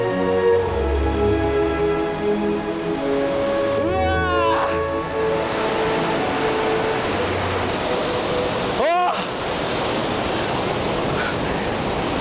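Epupa waterfall in Namibia pouring down, a loud, continuous roaring rush of falling water close by, with a voice talking over it.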